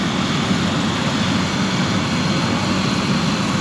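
A tour helicopter flies with a steady, loud droning rotor and engine roar that holds constant throughout, heard close and with no talking.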